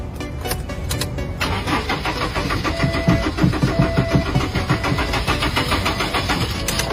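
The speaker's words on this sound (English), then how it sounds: "Did you see that? Unable to start." A car engine with a faulty EGR valve cranks repeatedly without catching, giving a steady rhythmic churning at close range with no talk over it.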